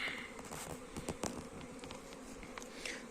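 Honeybees flying out of insulated hives on a spring cleansing flight, a faint continuous buzzing hum of many bees with individual bees passing near the microphone now and then.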